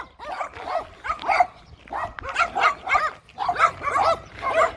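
Domestic dogs bark repeatedly in short, yappy bursts mixed with whines, fairly close and loud, with irregular pauses between volleys.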